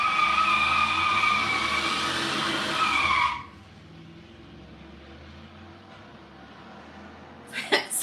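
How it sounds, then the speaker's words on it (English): A loud, aggressive truck roars past outside for about three seconds, then cuts off abruptly, leaving quiet room tone before a few sharp knocks near the end. "That sounded like a very aggressive truck."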